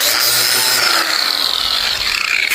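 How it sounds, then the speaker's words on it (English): An angle grinder shaves wood during a Sprinter van camper conversion, a loud, close, continuous whining grind with a rasping edge that shifts in pitch as the tool bears into the wood. "I shave it off with the grinder right there."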